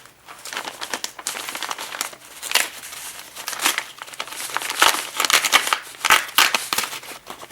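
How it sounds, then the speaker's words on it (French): A thick paper envelope being torn open, with dense crinkling and ripping of paper in bursts throughout, close and fairly loud, no talking. "excusez-moi pour le bruit, c'était une enveloppe assez épaisse."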